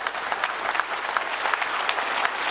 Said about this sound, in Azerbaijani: Alqışlar sizin tərəfinizədir